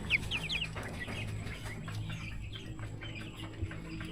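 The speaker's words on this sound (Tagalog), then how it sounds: "Yung mga manok natin." Chickens cluck steadily nearby, quick chirpy calls near the start and softer scattered clucks after, over a faint low background rumble.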